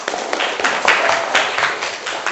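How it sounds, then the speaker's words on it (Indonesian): An audience in a classroom claps in a short, steady burst of applause, close and moderately loud, with some speech mixed in. "Oke, tepat sekali untuk Mas Fadil, tepuk tangan."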